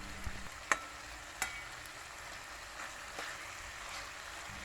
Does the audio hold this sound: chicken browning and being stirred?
yes